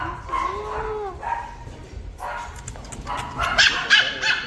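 Dogs bark and whine in a pet shop in International City, Dubai, with a run of close, sharp yaps and rising whimpers over a steady background of shop noise.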